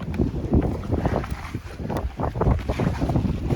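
Strong wind buffeting the microphone at a remote off-grid cabin site, a continuous rough roar with irregular gusts and rumbling surges, no voices.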